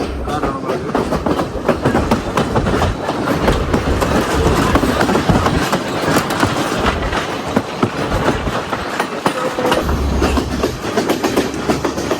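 A train travelling at speed through hill country from Kandy to Ella, Sri Lanka: a loud, continuous rumble with a rhythmic clickety-clack of wheels on the rails, heard from on board.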